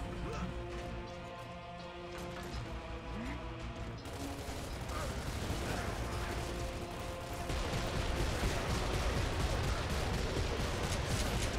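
Dense, sustained gunfire from the Gears of War 2 shooter, with rapid overlapping shots and crashes forming a loud continuous barrage that thickens partway through, while game sounds clutter the mix.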